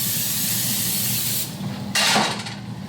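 Loud, close hissing of zero-calorie cooking oil spray in short bursts, with a strong broad hiss near the end over a sizzling background.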